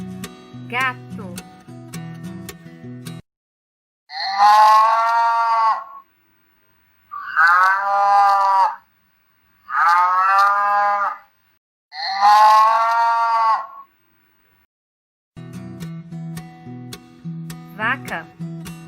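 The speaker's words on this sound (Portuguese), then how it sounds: "Vaca." A cow moos four times in a row, each low drawn-out call loud and close with brief pauses between, set between short stretches of light background music.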